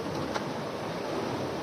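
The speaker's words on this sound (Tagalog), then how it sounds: "kung napapakinggan ko yung alon, sarap ng pakiramdam ha" Ocean waves at night around a fishing spot, a steady close washing rumble of surf with wind noise and one brief sharper splash.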